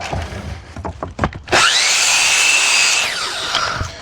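A miter saw slices through a shiplap ceiling board for a porch: a loud, steady whine and cutting roar that starts abruptly and holds for about a second and a half, then spins down, after a few light knocks and handling sounds.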